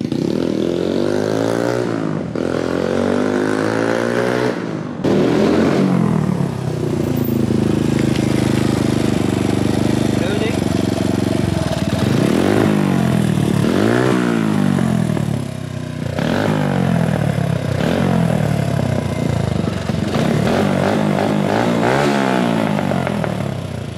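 Exhaust of an aging TVS Apache RTR 180 motorcycle running close by, a steady idle broken by several sharp revs that climb and fall back, loud throughout.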